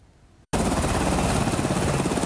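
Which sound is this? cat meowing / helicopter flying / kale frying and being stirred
helicopter flying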